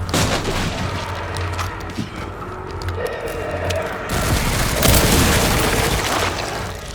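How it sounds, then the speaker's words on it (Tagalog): Bursts of gunfire and booming blasts crackle over a game soundscape in Resident Evil Requiem, growing denser and louder in the second half, without any talking. "Mga baril na naman."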